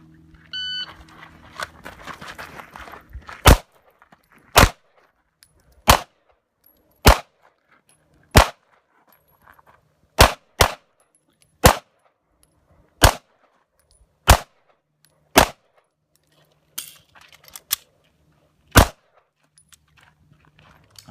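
Pistol shots ring out on an IDPA dynamic shooting sport stage, preceded by a short electronic timer beep, then about a dozen sharp, loud, close reports in quick pairs and singles with short gaps between them.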